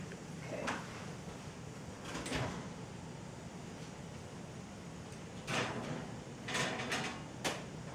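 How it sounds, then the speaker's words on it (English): Cheesecake bars go onto the middle rack of an oven, with a few scattered clunks and slides of the rack and oven door against a steady kitchen hum. "So now we're just going to put it in the middle rack of the oven for about 35 minutes"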